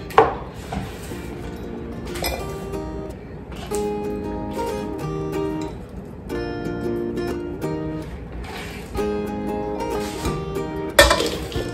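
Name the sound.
chopping food with a knife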